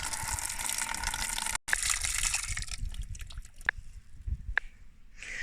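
Gushing and trickling water as bare-root plants are soaked before planting, a continuous pour at first that gives way to quieter drips and small splashes close by.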